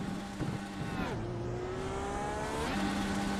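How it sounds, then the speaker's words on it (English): Race car engine in an online sim racing speedway series, revving hard at full throttle with the clutch in, a loud buzzing whine that drops and climbs again, close and steady. "And you can see, the revs and hear the engine as well."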